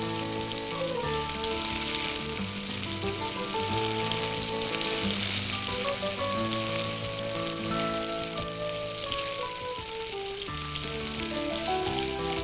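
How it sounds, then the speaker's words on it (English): Clams frying in a sizzling hot skillet, a steady bright hiss of hot fat running unbroken throughout, mixed with melodic background music. "For tender, succulent clams, the skillet should be sizzling hot"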